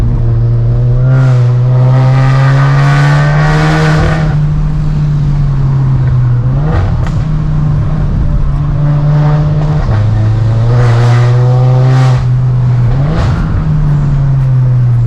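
A tuned 360 whp VW Passat B8 1.8 TSI engine drones loudly on a mountain road run to Genting, Malaysia, revving up and down repeatedly, its pitch rising and dropping as the throttle is worked.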